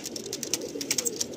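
Pigeons of fancy breeds such as Lalsira, Kalsira, Lambadi and Star Kalanka coo nearby in a short run of soft, repeated calls, heard alone without talk.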